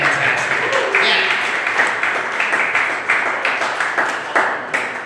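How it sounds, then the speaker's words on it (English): A comedy club audience applauds the wait staff, the steady clapping loud and dense with a few whoops, running throughout without pause. "Can we give a round of applause for the wait staff?"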